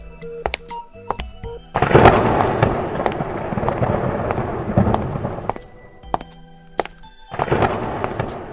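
Heavy rain pours down in a steady broadband wash, with sharp thunder cracks and rumbles breaking through at intervals, set in an outdoor village scene with no voices.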